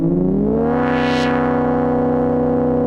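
Several oscillators of a Future Sound Systems Cric synthesizer mixed into a single dense, buzzy, distorted tone. It holds steadily for about three seconds with a brief bright sweep near the middle, and nothing else is heard.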